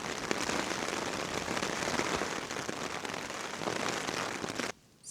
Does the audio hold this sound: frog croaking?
no